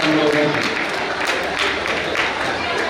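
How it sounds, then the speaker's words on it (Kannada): Loud, dense applause from a large audience at a public felicitation ceremony, a steady roar of clapping that fills the whole clip with no pauses. "ಜೋರಾದ ಚಪ್ಪಾಳೆ ಮೂಲಕ ಅವರನ್ನು ನೀವು ಸನ್ಮಾನಕ್ಕೆ ಒಂದು ಗೌರವಿಸಬೇಕಂತ"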